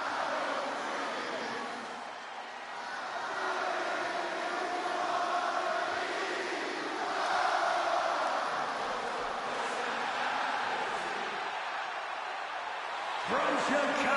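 A hometown Chicago arena crowd in WWE 2K26 roars in a sustained ovation for CM Punk, a dense continuous swell of cheering that rises and falls. Commentary runs over it throughout.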